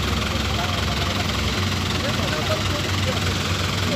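A New Holland tractor engine runs with a steady low rumble and idle-like throb, heard from nearby, while people talk over it.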